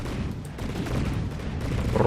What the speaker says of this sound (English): I kind of like the sound of these cannons.